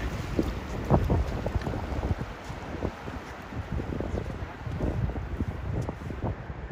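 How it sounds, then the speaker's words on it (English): Sea waves rolling in on the strait at a winter shoreline with an incoming tide, a steady rushing wash with gentle surges, wind buffeting the microphone throughout and no voices. "Good waves coming in now."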